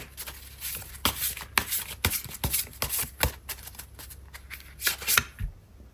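Tarot cards are shuffled and drawn in a rapid series of crisp riffling flicks and slaps, close and fairly loud, with brief pauses between bursts.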